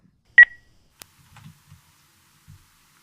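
A single short electronic voicemail beep sounds once, followed by near silence with a few faint soft clicks.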